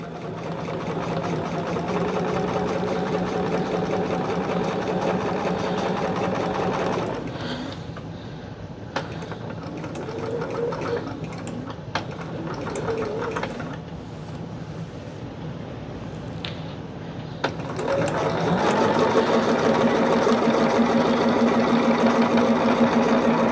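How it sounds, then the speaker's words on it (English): A sewing machine stitches through the center of a fabric picnic caddy, guided by hand. It runs in a steady, close drone for several seconds, goes quieter with light clicks and handling noises, then resumes running strongly at the end. No one speaks. "guide this with my hands and sew through the center"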